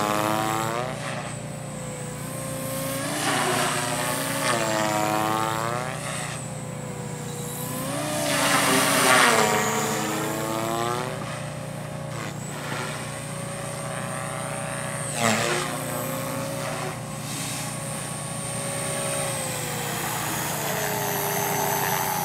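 Electric motor and rotor whine of a 300X RC model helicopter flying at a fun fly event, a continuous buzzing drone whose pitch swoops up and down with hard maneuvers, fairly close and steady throughout.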